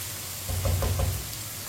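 Tomatoes cooking in a pan for an okra curry give a soft, steady sizzle with a brief swell of louder frying crackle midway, close and alone without talk.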